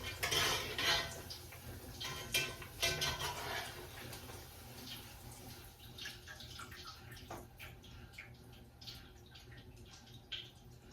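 Tortillas are stirred in a pan while making chicken enchiladas, giving soft sloshing and scraping with a few metallic clinks of utensils, louder at first and then fading to quieter wet shuffling, no voices.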